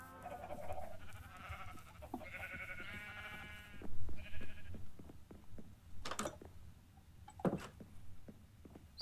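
Farm animals bleating and lowing in a video game, several calls in bursts over low background noise, with a few sharp thumps and clicks between them.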